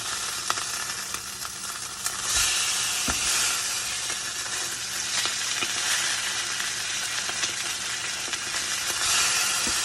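Meat sears in a hot pan with a steady, loud sizzle and crackle, punctuated by occasional pops and scrapes as the piece is shifted, with no voices.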